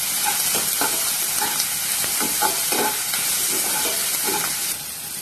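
Onions sautéing in a pan for mushroom gravy, a steady close sizzle and hiss with repeated scraping stirs, no talking.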